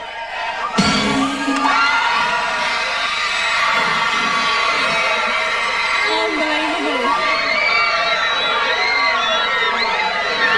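Crowd at a pop group's public in-store performance cheering and screaming in a continuous loud roar, with high shrieks and whoops rising over the din throughout.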